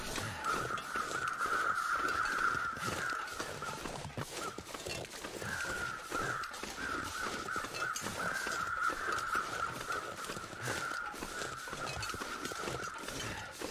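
Crows caw in The Long Dark, a steady run of harsh calls from birds a short way off, carried over a constant windy wilderness backdrop.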